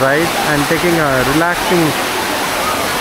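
A shower waterfall at Sampoorna Water Park in Pondicherry pours a steady, loud, broadband rush of falling water, continuous under someone talking nearby.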